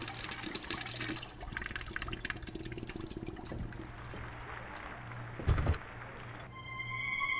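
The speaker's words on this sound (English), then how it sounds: "Let's flush and get out of here." A toilet flushing in a game bathroom, a continuous rushing gurgle of water that swells and fades over several seconds, ending in a sharp thump and a shift to a quieter hiss.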